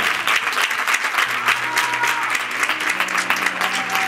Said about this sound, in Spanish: Yo pediría un fuerte aplauso para todos y para vosotros